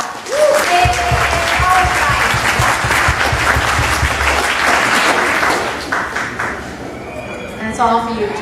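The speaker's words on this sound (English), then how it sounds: "give you guys another hand" Wedding reception guests clap together in a loud, lively burst of applause with cheering, a low musical hum underneath for the first seconds and voices rising near the end.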